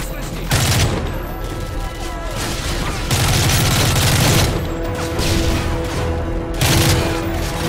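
Rapid gunfire bursts rattle in a Call of Duty Modern Warfare 3 campaign mission, loud repeated volleys of automatic fire with booming impacts, up close.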